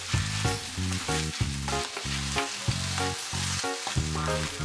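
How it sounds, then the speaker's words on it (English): Pork stir-fried in oil in a hot frying pan, a continuous loud sizzle broken by repeated scraping and tossing strokes from stirring, close up. "Stir fry the pork first."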